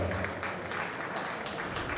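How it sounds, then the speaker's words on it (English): Audience applause rings out at a Western Spring National Show as a class of Red heifers enters the ring, a steady broadband clatter of clapping lasting the whole moment, with faint indistinct voices beneath. "let's give them a big round of applause"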